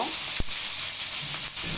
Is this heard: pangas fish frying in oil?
yes